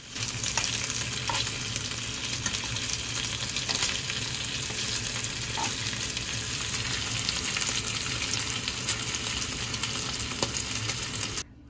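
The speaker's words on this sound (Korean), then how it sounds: "집에 돌아와 삼겹살을 구워 저녁을 먹었다." Pork belly sizzling in a pan for a home dinner, a steady crackling fry with occasional pops, continuous and moderately close, with no talk.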